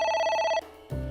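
Electronic telephone ring in the video game AI: The Somnium Files, a bright repeating tonal trill held for about half a second before cutting off, followed by a low thud.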